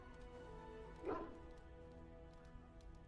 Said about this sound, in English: I hear you barking